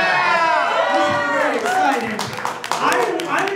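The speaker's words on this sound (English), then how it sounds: "You should be applauding that." A live audience cheers and claps with whoops and shouts at a Star Wars podcast show, a loud, dense crowd roar that swells and dips over a few seconds.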